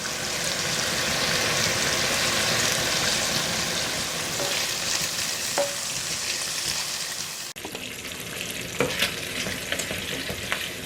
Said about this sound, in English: And I'm going to place this in the frying pan and cook it.